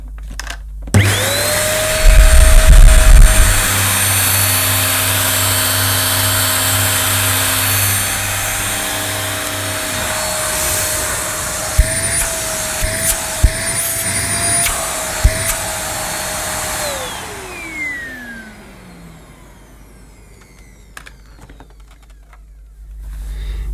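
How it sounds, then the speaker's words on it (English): A Vax Power Reach handheld vacuum cleaner switches on with a loud, steady motor whine that holds for about fifteen seconds, then winds down and fades away as it is switched off. "Okay, I'm about to switch this cleaner on. Headphone users, beware, this may be quite noisy."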